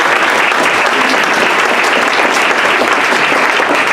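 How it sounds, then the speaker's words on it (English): Loud, dense audience applause at a homeless forum in Colorado Springs, continuous clapping from a crowd filling the whole stretch without speech. "So give him a round of applause."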